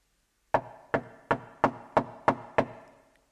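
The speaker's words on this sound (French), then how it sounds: "Le roi frappa à la porte." Seven sharp, evenly spaced knocks on a red and gold wooden door, close and distinct, with a short decay after each and no voices.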